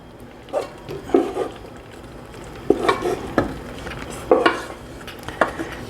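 Noodles being stirred into melted cheese sauce in a pot for smoked mac and cheese, with several wet, scraping stirs and utensil knocks coming in irregular bursts up close.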